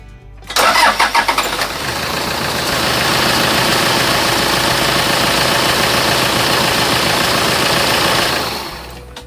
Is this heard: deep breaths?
no